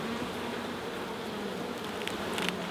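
Honey bees buzz around their hive on a sunny day, a dense, steady hum of many insects close by with no voices.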